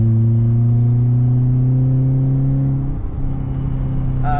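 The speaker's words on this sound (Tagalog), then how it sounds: "medyo maingay yung exhaust" Loud, droning exhaust note of a BMW Z3 idling with a newly fitted aftermarket exhaust, a steady deep rumble with strong low harmonics that dips briefly and picks up again, close to the microphone with no talking.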